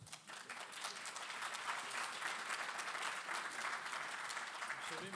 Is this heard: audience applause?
yes